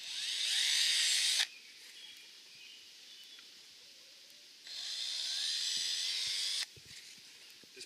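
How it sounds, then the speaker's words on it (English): A small high-pitched drill whines in two bursts through PVC pipe, about a second and a half then two seconds, with quiet background between them. "I'm going to drill just a couple of holes in here to let the water come out"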